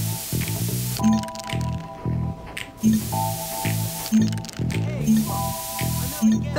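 Spray paint hisses in short repeated bursts as a graffiti tag goes down in Bully, with wet squishing sounds and game music tones between the sprays.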